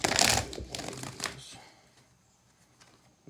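Tarot cards being shuffled by hand, a quick papery riffle and flutter with a few sharp slaps and taps, close and crisp, fading out toward quiet at the end.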